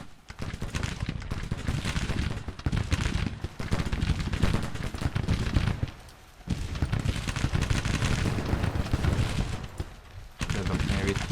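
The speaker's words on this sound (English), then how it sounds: "Okay, cannons." Cannons firing in a Grand Tactician Civil War battle, a dense sustained barrage of booming shots and crackling volleys that rolls on through most of the stretch with a couple of brief lulls.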